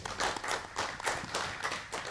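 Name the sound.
audience clapping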